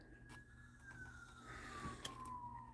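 Emergency vehicle siren on a busy nearby road, a steady tone that slowly slides downward as it passes, moderately distant beneath the indoor room sound, with a couple of brief sharp knocks close by.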